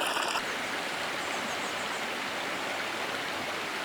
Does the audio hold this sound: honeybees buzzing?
no